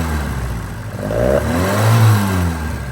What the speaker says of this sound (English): I'm gonna rev it up just a little bit